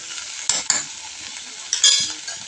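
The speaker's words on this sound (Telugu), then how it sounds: "ఇవి బాగా ఫ్రై కావాలి, మెత్తగా కావాలి టమాటాలు." Leafy greens and tomatoes fry in oil, a close, steady sizzle broken by a few sharp scrapes and clinks of a spatula against the pan.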